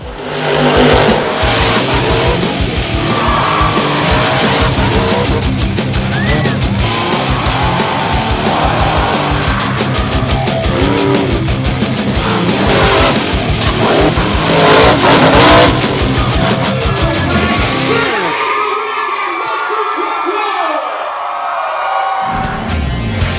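Renegade monster trucks race and rev at Penn Can Speedway in Susquehanna, Pennsylvania, engines roaring loud and close with tire squeal and skidding, continuous for most of the stretch before the noise drops away near the end.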